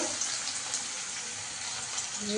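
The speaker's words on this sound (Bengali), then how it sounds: "কড়াতে তেলটা গরম হয়ে গেছে এবার আমি আলুগুলো আস্তে আস্তে দিয়ে দেবো" Potatoes slide into hot oil in a kadai for egg chowmein, raising a broad, even frying hiss that holds steady and close for the whole stretch, with no voices over it.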